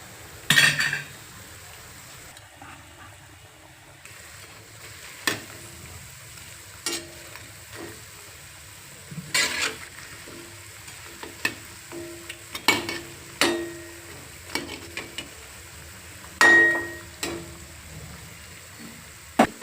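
Bajji fritters frying in a pan of hot oil give a steady soft sizzle, with scattered metallic clinks and scrapes as a utensil stirs them now and then, close and without talk.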